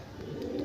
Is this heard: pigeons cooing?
yes